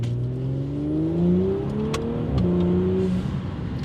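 An Audi S4 B9 turbo engine with an aftermarket Unitronic intake hums steadily then rises in pitch as it accelerates, with a whooshing intake note, heard from inside at moderate loudness.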